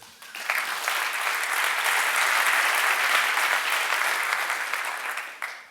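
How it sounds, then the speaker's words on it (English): Audience applause at a tech conference rises quickly, holds steady and full for several seconds, then cuts off near the end. "Let's give a round of applause to Joey."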